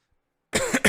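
A single short, sharp cough from a hoarse man who has been coughing all week, breaking suddenly out of silence with a second quick burst at the end.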